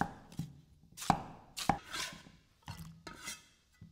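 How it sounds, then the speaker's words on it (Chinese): A knife chops peeled yellow potatoes into chunks on a cutting board, giving about seven crisp, separate thunks at an uneven pace, close and fairly quiet with no talk. "准备黄皮土豆3个，去皮之后切成滚刀块备用"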